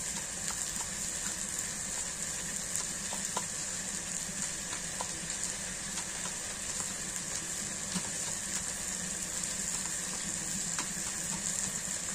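Leafy greens (shak bhaji) fry in a pan with a continuous, even sizzle and faint scattered clicks from stirring, no voices over it.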